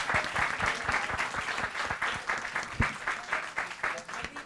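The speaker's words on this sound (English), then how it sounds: "Let's give our resource persons a big hand of applause" An audience claps steadily for guest presenters at a hunger-focused event, a dense, moderately loud wash of many hands with scattered sharper claps standing out, filling the whole moment with no talking over it.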